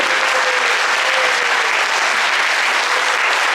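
An audience at a stage event claps loudly and steadily, a dense wall of applause that holds for several seconds.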